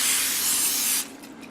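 A steady, close spray hiss of oil onto a parchment-lined baking tray lasting about a second, then cutting off to quiet room tone with a couple of faint clicks.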